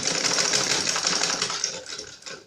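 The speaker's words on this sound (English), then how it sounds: "So let's get on the sewing machine now. So I will now sew." A sewing machine stitches fabric for a fitted sheet, a loud, close, fast whirring run that tapers off near the end.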